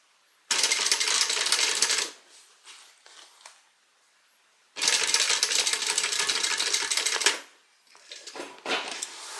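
A sewing machine stitches a hobo shoulder bag in two long, loud, fast runs, each about two seconds, with quiet handling clicks and rustles between them.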